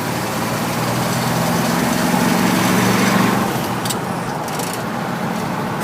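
A 1973 Ford F100 pickup truck engine runs steadily through the gears, a close, continuous low drone that swells slightly mid-clip and then eases, with no talk over it.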